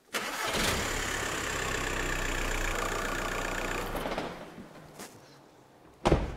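A BMW car engine cranks and starts after an oil change, then settles into a steady idle that drops off, followed by a sharp knock near the end, heard close with no talking.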